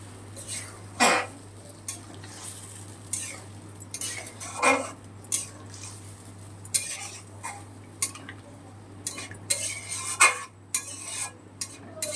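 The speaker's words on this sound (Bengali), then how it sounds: "একটু সর্ষের তেল ছড়িয়ে দিলাম। এবারে একটু নিচেটা নেড়ে দিচ্ছি।" Fish curry of katla in a pan, sprinkled with mustard oil and stirred from the bottom: intermittent close spoon scrapes and metal clinks over a low hum, with faint sizzling and no talk.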